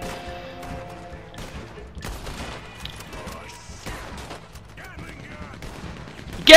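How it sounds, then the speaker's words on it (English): Gatling gun fire in the video game Red Dead Redemption 2, with dense bursts of gunshots and crashes running under someone talking, ending in a sudden loud blast. "Gatling gun!"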